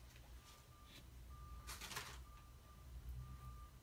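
Intermittent reversing beeps from a bus parked out front, a thin repeating tone heard faintly at a distance indoors under low room rumble, with a burst of rustling in the middle.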